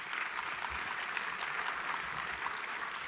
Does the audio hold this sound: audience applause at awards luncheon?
yes